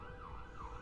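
Fire engine siren from the video game Cities Skylines 2, a steady wailing tone that rises and falls twice, loud and continuous over a low engine rumble with no talking.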